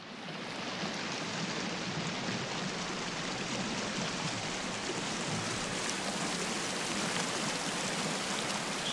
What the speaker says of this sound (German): Das Wasser ist schon echt laut.